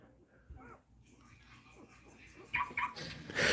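A Presa Canario dog whimpers softly with a few brief high whines, faint and close, over low background noise that rises toward the end.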